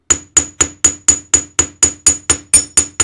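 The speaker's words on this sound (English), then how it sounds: "Just a little bit with your chasing hammer on the bench block." A chasing hammer strikes a metal wire arrow laid on a steel bench block, flattening it with about twelve sharp, ringing taps in a steady, even rhythm, close and loud with no talking.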